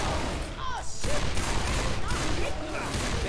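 Rapid gunfire from survivors shooting at a Tank in the Left 4 Dead 2 game's Hotel chapter, dense bursts rattling continuously over a loud game soundscape for the whole stretch.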